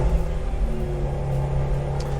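A turbocharged BMW X3 M Competition engine runs right after a cold start, giving a steady, close, deep idle rumble with a low droning hum and no voices.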